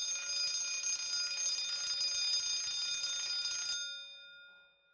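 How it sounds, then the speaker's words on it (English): An electric school bell rings for class in one continuous, loud metallic trill, then stops abruptly and leaves a fading ringing tail. "That's the bell for class."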